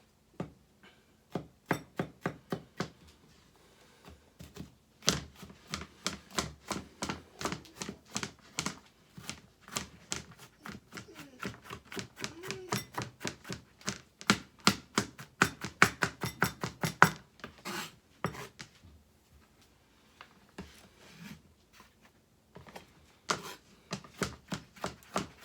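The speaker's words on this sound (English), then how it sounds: "So I'm going to chop this garlic up." A knife chops garlic on a cutting board in rapid, steady runs of sharp close taps, broken by short pauses as the pile is gathered and chopped fine.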